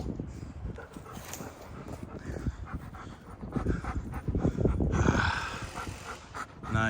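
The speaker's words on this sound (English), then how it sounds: "Say what's up to Grimace, y'all. Beautiful dog" A dog pants rapidly and steadily close by, with soft whimpers mixed in and a few scuffling sounds around it.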